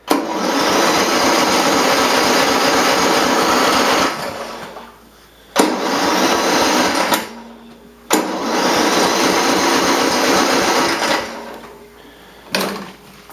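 Small machine with an electric start, compared to a riding lawnmower, cranking and kicking over in three loud, sustained bursts of motor noise with brief quiet gaps between them.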